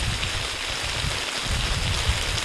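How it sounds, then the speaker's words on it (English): Heavy rain pours down in woods as a dense, steady hiss that fills the whole stretch at an even loudness, with no voices and no breaks. "the rain is coming down pretty good"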